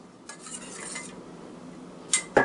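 A spoon scrapes and stirs through portobello burger filling in a dish, producing soft scraping swishes, then a couple of sharper clinks of metal against the dish near the end, close and fairly quiet.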